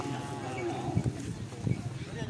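Cattle low in a rural setting, with short low moos breaking through amid steady background noise and people talking nearby.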